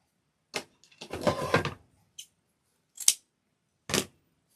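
Scissors snip through ribbon for a birdhouse sign and wreath, giving several short, close crisp cuts, one longer rustling cut, and scattered single snips with silence between.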